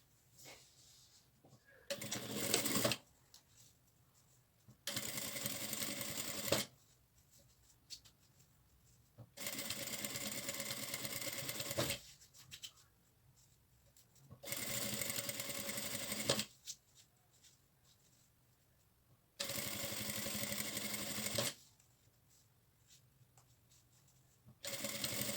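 A sewing machine runs a finishing seam along a fabric folder. It stitches in five evenly spaced bursts of about two seconds each, with quiet pauses between them.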